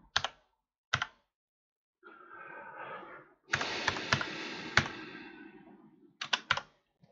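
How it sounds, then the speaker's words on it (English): Typing on a computer keyboard comes as isolated key taps, then a softer stretch, then a dense burst of rapid clicking with sharp accented strokes, ending in a few quick final taps, all close and clear. "What is up with my typing today?"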